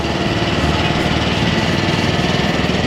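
A motorcycle engine runs steadily and loudly in city traffic, with a continuous buzzing drone and exhaust noise throughout, with no pauses or voices.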